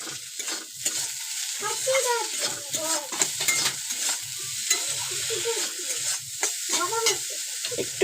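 Vegetables being stirred in a pan after the lid comes off, with soft sizzling and irregular scraping and clinking of a utensil against the pan, close and continuous, with no talking.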